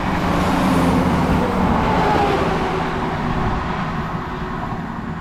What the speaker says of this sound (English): We also have another train coming through whilst I was saying all that